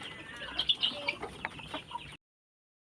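A rooster and two hens in a coop, one hen with a snoring respiratory illness and one with snot, cluck in quick close bursts for about two seconds before the sound cuts to silence.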